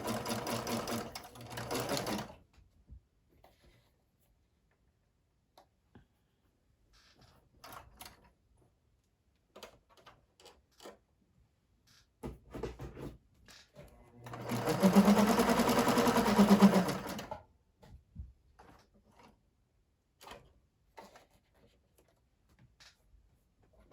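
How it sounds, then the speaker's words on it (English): A sewing machine stitches a straight seam with a little zigzag at the bottom while crafting a junk journal, running in two short bursts: a brief whir at the start and a louder, longer run later, with quiet handling sounds between. "I'm gonna do a straight stitch now with a little bit of a zigzag at the bottom."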